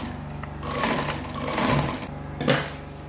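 A sewing machine stitches closed the lining opening of a fabric tote bag, giving a steady close mechanical whir for about three seconds with a brief dip midway.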